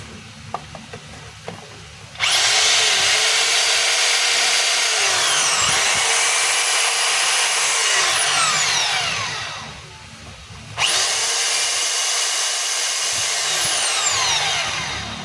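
DeWalt D25033 rotary hammer with a bit fitted, whining loudly in two long bursts with a short pause between, after a few quiet clicks at the start.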